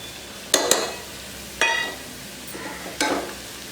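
Onion with ground coriander, chilli and turmeric sizzles in a pan for mutton pepper fry, with three or four sharp stirring scrapes breaking through a soft, steady frying hiss.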